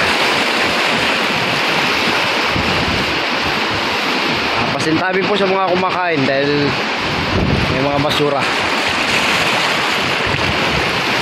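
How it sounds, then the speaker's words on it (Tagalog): Heavy typhoon-driven surf on Manila Bay and wind roar steadily throughout, with someone talking over it in the middle. "Malalaki pa rin po yung alon mga kapising"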